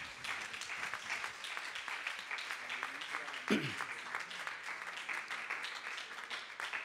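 Faint clapping from a church congregation, a soft, continuous patter heard at a distance under a preacher's voice.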